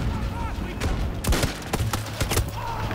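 Gunfire in a video game: a quick burst of several sharp shots cracks loudly in an irregular cluster over a steady background hum.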